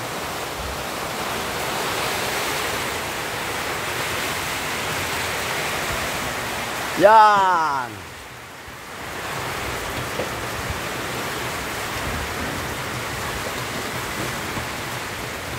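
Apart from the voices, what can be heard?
heavy rain and strong wind, Iloilo City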